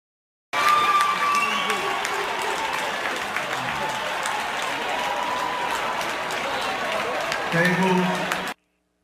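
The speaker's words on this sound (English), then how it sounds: "They're cheering." Poll workers cheering and clapping in a room as an observer is escorted out, heard as a sustained crowd applause and cheer, slightly distant and boxy, running about eight seconds and swelling near the end.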